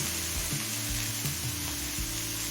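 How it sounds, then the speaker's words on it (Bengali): Spring onion stalks, beans, cauliflower and peas fry in a pan with a loud, constant, close sizzle and occasional soft stirring thumps. "পেঁয়াজ কলি বিনস আর ফুলকপি দিয়ে মিনিট দু তিন ভেজে নিলাম এবার দিয়ে দিচ্ছি মটরশুঁটি"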